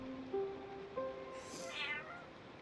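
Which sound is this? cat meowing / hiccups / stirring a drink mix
cat meowing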